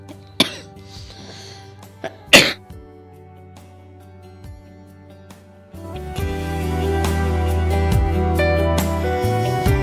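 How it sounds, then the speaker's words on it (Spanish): A man coughs sharply twice during a Spanish-language radio sermon, each cough loud and close to the microphone, followed by music rising beneath. "disculpen la tos"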